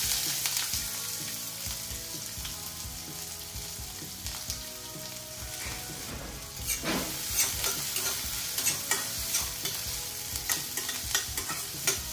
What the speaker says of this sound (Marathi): थोडेसे कांदा एक मी बारीक चिरून घेतला आहे तो घालूया.